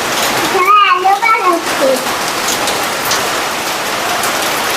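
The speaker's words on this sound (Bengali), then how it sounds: "একদম মুষলধারে হচ্ছে বৃষ্টি, বাতাসও আছে সাথে, ঝড়ো হাওয়া" Heavy monsoon downpour driven by stormy gusting wind, a steady broadband hiss of rain throughout, with a voice speaking briefly near the start.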